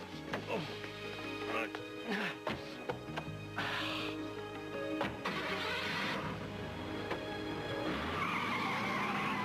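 A car engine starts and revs, tires squeal and skid as it pulls away, with bursts of noise and voices mixed in over the rumble.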